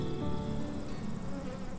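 Honey bees buzzing in a dense, continuous hum, close and steady, with no other sounds.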